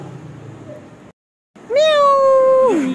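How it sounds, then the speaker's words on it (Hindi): Close, clear cat meow, one long drawn-out call that slides down at the end, following a short silence after faint background noise. "यहाँ इतनी प्यारी बिल्ली है,"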